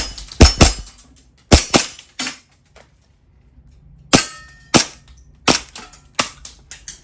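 A gas blowback airsoft pistol firing at steel targets, loud sharp pops in spaced bursts of two or three, each followed by a metallic clang, with short pauses between volleys.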